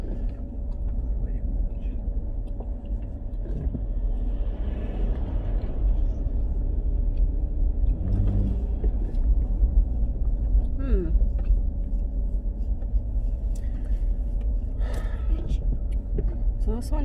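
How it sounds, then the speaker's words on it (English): Cars idling and creeping along in a traffic jam on a road near Rotorua, New Zealand, a continuous low rumble of engines with passing vehicle swells, heard from inside a car with people talking throughout. "Oh, and we're in a traffic jam."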